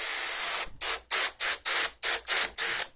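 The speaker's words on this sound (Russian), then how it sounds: "Теперь при помощи ступенчатого сверла сделаем сквозное отверстие." A step drill bit whines in eight short bursts while boring a through hole, each a loud high-pitched spin cut by brief pauses, close by with no talking.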